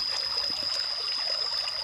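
Water trickling in a stream beside rural land in Prachinburi, Thailand, a steady close burble with a constant high whine beneath it and no voices.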